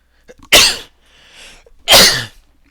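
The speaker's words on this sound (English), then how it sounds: "Sorry for the sneezes." Two loud, sharp sneezes burst out close to the microphone about a second and a half apart, with quiet breathing between them.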